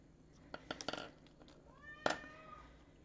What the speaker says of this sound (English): You're probably going to hear a cat meowing in the background.